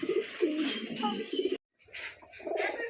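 A pair of pigeons coo close by in low, throaty repeated phrases, broken by a short silent gap before the cooing resumes.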